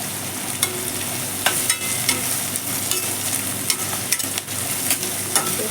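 Two sprigs of fresh curry leaves are stirred in a hot frying pan, giving a steady crackling sizzle broken by regular scrapes and knocks of the spoon.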